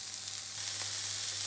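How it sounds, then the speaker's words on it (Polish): Bacon-wrapped camembert sizzles and fries in a pan, a steady, fairly quiet hiss of crackling fat heard alone. "Widzę, że dosyć mocno się smaży, więc przewracam na drugą stronę."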